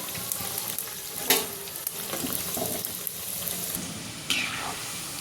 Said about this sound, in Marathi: गुलाबजाम सोडून तळून घ्यायचे एक एक करून आपण सोडून देऊयात